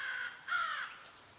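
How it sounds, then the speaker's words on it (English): A single crow caws outdoors, one harsh, drawn-out call at moderate distance with quiet surroundings and no voices. "That crow is letting me know whose turf I'm in."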